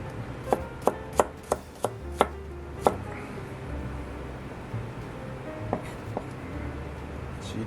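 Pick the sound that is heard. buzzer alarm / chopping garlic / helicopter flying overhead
chopping garlic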